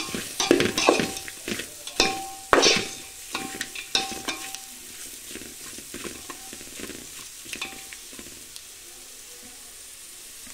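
Spiced pulao ingredients are stirred in oil in a pan, with repeated scraping and clinking strokes over a soft sizzle that gradually fades, no voices.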